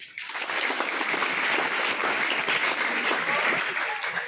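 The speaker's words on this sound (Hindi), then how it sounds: "बजाओ ताली से।" Students in a school gathering applaud together, a dense sustained clapping from a large group that starts quickly and continues steadily throughout.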